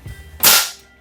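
A single loud, sharp crack from an FX Wildcat Compact .22 caliber air rifle firing one shot, close and abrupt, fading quickly in a quiet setting.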